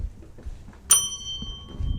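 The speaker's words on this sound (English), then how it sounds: "Hey, there's that bell. There's the bell." A small bell struck once by a streamer, a bright ding with a clean ringing tail that fades over a second, heard alone in a quiet room.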